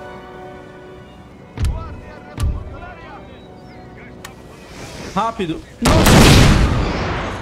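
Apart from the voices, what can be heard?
cannon artillery fire in video game Total War: Napoleon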